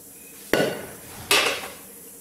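Brinjal kalonji scraped from a cooking pan onto a plate, two sharp metallic clanks of a spoon against the pan about a second apart, close and clear against a quiet background.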